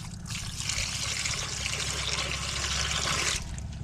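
A continuous broad hiss of running water trickles and splashes steadily at close range, with a low rumbling background underneath and no voices.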